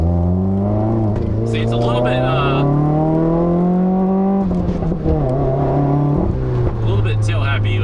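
A 2015 Subaru WRX on winter tires pulls hard along a twisty road, its turbo engine droning and climbing in pitch through the gears with a shift break and another rise, while a person talks over the cabin noise.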